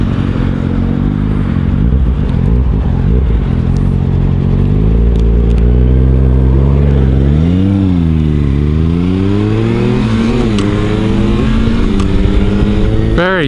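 A Kawasaki Versys-X 300 motorcycle engine hums steadily at cruising speed in sixth gear around 80, its pitch rising and falling slightly with throttle, loud and continuous under rushing wind.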